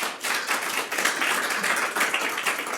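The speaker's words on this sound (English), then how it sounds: "I'm gonna ask so we don't have applause every time we have a speaker." A city council meeting audience in Detroit Lakes breaks into steady, dense applause, many hands clapping together at an even level throughout, with no voices over it.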